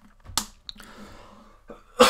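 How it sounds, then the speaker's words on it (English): A person coughs close to the microphone, with one sharp burst at the start and another at the end, separated by quieter breathy throat sounds. "I'm coughing."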